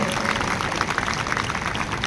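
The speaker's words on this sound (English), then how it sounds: "You can give a big round of applause to them." Audience applause at a graduation ceremony for visually impaired students, a steady dense patter of clapping from a crowd, moderately loud and continuous.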